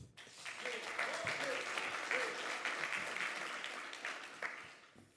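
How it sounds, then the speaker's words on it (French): Audience applause at a Devfest tech conference, a dense sustained round of clapping from a crowd that runs steadily at moderate volume throughout, with a faint voice or two underneath. "On peut applaudir."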